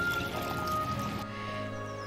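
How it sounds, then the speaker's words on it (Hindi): Water is poured into a plant tonic mixture being made up to one litre, a close trickling, gurgling stream that thins and quiets toward the end. "इसमें थोड़ा सा और पानी हम डालेंगे"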